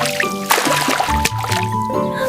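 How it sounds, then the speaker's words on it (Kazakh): Cartoon sound effect of milk being spilled by a cat in a Kazakh animated fairy tale: a short liquid splash and gurgle set against music tones. "Онда сүтті төгемін."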